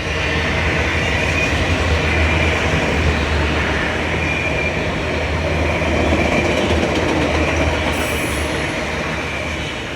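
Train powered by a CP and a KCS GEVO locomotive passes close by with a steady heavy rumble of rolling cars, and a brief high wheel squeal rises near the end.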